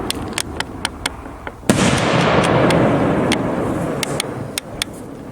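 3-inch aerial firework shells from a Freedom Extra Fancy assortment: a run of sharp firecracker-like pops, then one big shell burst near 1.7 s whose broad roar and crackle fades over several seconds while more pops keep going.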